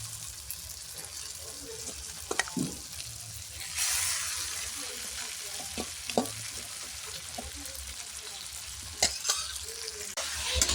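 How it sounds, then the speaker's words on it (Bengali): Dal being fried with spice masala in a pan for a dhaba-style egg tadka, a steady soft sizzle with occasional stirring scrapes and clinks throughout, moderately close. "এবার মশলার সঙ্গে ডালটাকে ভালো করে কষিয়ে নিয়ে"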